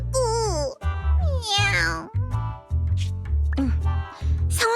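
A cat-like character in the video game Zenless Zone Zero makes voiced meowing calls in quick succession, a voice imitating a cat with rising and falling tones, loud and close.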